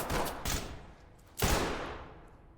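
Gunfire in the tactical shooter Ready Or Not comes as a few loud, close bursts of shots, each leaving a decaying echo tail, with no talking.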